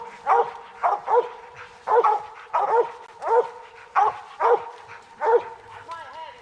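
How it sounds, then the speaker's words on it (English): Hunting dogs bark at a treed squirrel in a winter woods, sharp, loud barks and yips repeating in an uneven rhythm from close by, with a brief whine near the end. "All these dogs are barking right here."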